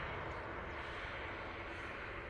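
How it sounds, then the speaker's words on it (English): A Ryanair plane takes off at Manchester Airport, a faint, distant jet roar held steady and broad without breaks. "The Ryanair's taken off"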